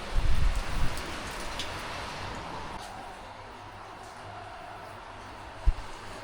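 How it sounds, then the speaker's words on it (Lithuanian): Rain falls outdoors with a soft, even patter and a low rumble at the start, fairly quiet throughout and capped by a single dull knock near the end. "Ne šalta, bet lyja."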